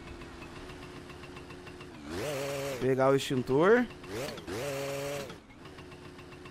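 A motorbike engine in the video game My Summer Car idles with a steady buzzing drone, then revs up in several loud bursts before settling back to idle, while someone talks over it.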